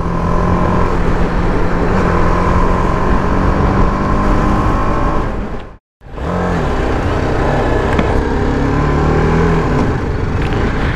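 A TVS Apache RR 310 motorcycle engine revs hard with the throttle opened, a loud, sustained droning roar that cuts out abruptly for a moment before picking straight back up, with no talking.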